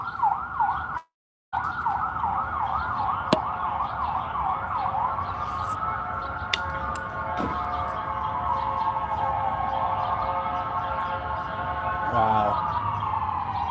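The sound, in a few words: ambulance siren horn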